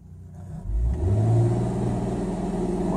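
A Ford car with a DSI M93LE four-speed automatic transmission revs in drive during a stall test. The engine idles, then climbs to a loud steady drone around 2,500 rpm and holds there, close and alone without talk.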